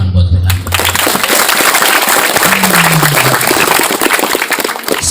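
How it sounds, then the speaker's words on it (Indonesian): Hundreds of students and teachers at a motivational seminar in an Islamic boarding school in Banjar break into loud, continuous applause for a boy, a crowd of hands clapping steadily; a brief voice opens the clip before the clapping takes over. "Tepuk tangan buat Fernando"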